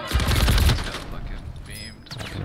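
Call of Duty gunfire: a dense burst of rapid automatic shots up front, then quieter scattered game effects, loud and close with a voice talking over it.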